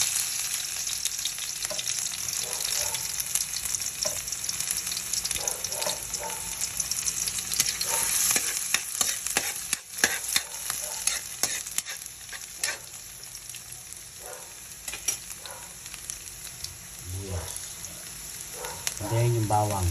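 Onions frying in a pan, heard as a constant crackling sizzle with frequent utensil scrapes and clanks as they are stirred, plus occasional faint voice sounds in the background.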